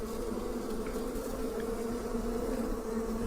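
Killer bees buzz inside a soffit in a constant, even drone, fairly close and moderately loud, with no talking over it.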